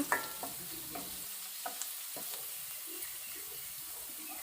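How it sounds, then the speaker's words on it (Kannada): Country chicken frying in a pan for pepper chicken and being stirred, a quiet, steady sizzle broken by light scraping and clicking stirs, close and with no voices. "ಅಲ್ಲಿ ತನಕ ನಾವು ಅದನ್ನು ಫ್ರೈ ಮಾಡ್ತಾ ಇಟ್ಕೊಳ್ಬೇಕು"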